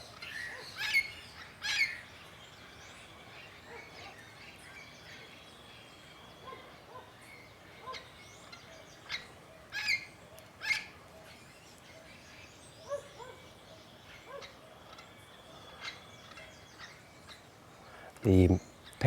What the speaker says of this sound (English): The parrots are in the mango tree this morning.